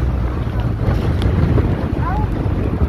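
Big waves slap against a boat during island hopping off Boracay, a close, rough wash of water with heavy wind buffeting the microphone, and brief voices mixed in.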